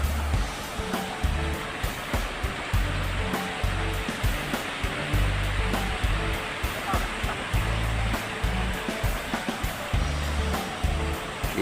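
Broad, steady rushing of river water during a crossing in Bicol, with low rumbling gusts, continuous and fairly loud throughout with no talk.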